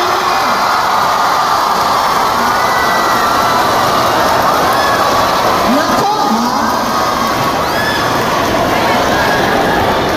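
A dense crowd claps and cheers for a DSWD NCR representative at a student cash-aid event, a steady loud wash of applause and shouting across the whole clip with no pauses.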